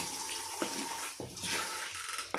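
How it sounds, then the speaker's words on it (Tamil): Rice-washing water pours and splashes steadily into a clay pot, with a few brief clunks breaking the continuous rushing flow. "இன்னும் கொஞ்சம் கழனி தண்ணி ஊற்றிக்கலாம்."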